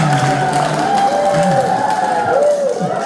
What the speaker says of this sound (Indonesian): Tepuk tangan buat Indah.